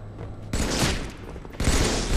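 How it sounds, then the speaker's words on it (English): Grenade gun firing in a video game: two loud, harsh bursts of blasting, one about a second after the other, each holding steady before cutting off. "Oh wow, I got a random grenade gun."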